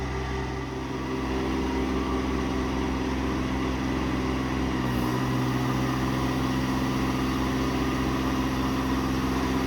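Cummins diesel engine of a 2016 Ram 5500 service truck with 201k miles, held at raised idle to run the Autocrane 7k crane, drones in a steady, loud, even hum throughout, with no voices.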